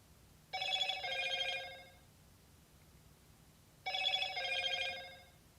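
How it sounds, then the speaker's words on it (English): A phone rings out twice with a short electronic ringtone, each burst lasting about a second and a half and separated by a few seconds of quiet, clear and close against low room hum. "we're gonna have a notification on my phone because it's gonna text me a code"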